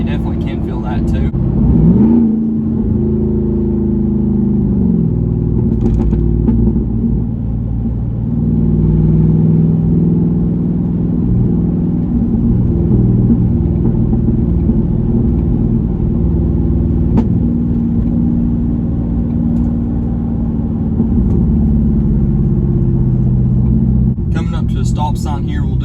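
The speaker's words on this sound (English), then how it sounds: "it gives you all that exhaust noise you want" Straight-piped Jeep Wrangler Rubicon 392 V8 with the exhaust droning in a steady low rumble while driving, rising slightly at moments, with someone talking over it throughout.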